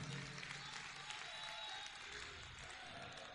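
Audience clapping at a devotional bhajan gathering, a faint, continuous wash of many hands that holds steady throughout.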